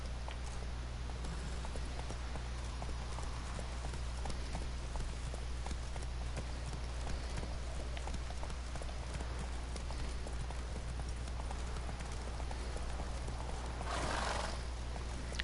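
Horse hooves drum in a steady, fast clip-clop through the Witcher 3 video game, close and continuous over a low hum, with a brief whoosh near the end.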